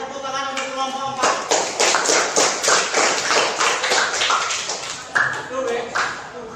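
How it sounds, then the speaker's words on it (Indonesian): A classroom group claps for group 4, a burst of brisk, uneven hand claps that starts after a moment and carries on steadily, close and loud, with voices among the clapping. "Tepuk tangan untuk kelompok 4."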